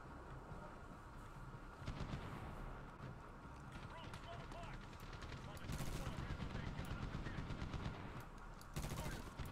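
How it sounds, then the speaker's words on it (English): PKM or DShK machine gun fire in the Medal of Honor 2010 video game, rapid bursts of automatic shots crackling over a busy battle din, with a brief exclamation from a voice. "That, I believe, is a PKM or a Dushka firing right there."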